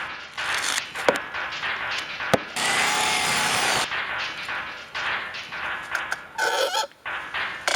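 Power drill driving a large screw through a board on a concrete block pier and sill plate project, a close, loud grinding whir with a sustained burst in the middle, amid knocks and handling noises.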